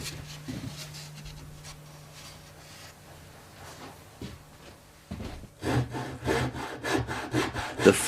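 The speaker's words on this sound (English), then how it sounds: "The front and back of the violin are then sawn out from flat pieces of wood." Flat pieces of wood being sawn out for the front and back of a violin, a faint rasping saw that turns into loud, close, rhythmic back-and-forth strokes near the end.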